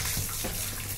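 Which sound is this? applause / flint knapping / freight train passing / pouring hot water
pouring hot water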